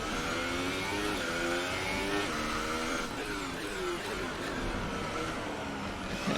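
A Formula 1 race car engine in the F1 2018 video game revs hard and continuously, its high whine climbing and dropping through gear changes, loud and close throughout.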